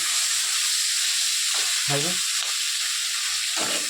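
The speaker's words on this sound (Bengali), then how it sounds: "রান্না করছে মাছ ভাজা করছে" Fish frying in a village kitchen on a gas stove, a steady close sizzle and hiss with brief bursts of crackling spatter, and faint voices now and then.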